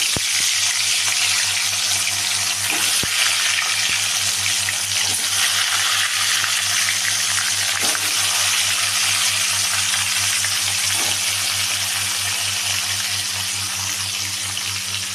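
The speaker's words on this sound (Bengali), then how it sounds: "এখন মাছগুলো আমি ভেজে নেব এই গরম তেলে।" Bhola fish sizzling steadily as it fries in hot oil in a kadai, a dense continuous crackle throughout with a low steady hum beneath and no talking.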